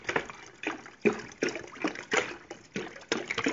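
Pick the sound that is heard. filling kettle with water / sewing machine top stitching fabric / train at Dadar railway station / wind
filling kettle with water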